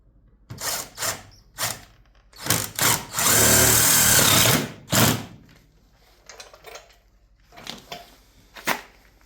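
A power drill driving screws into car cab corner panels, several short whirring bursts and one longer sustained run, loud and close with pauses between.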